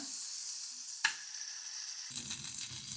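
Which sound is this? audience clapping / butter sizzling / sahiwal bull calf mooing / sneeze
butter sizzling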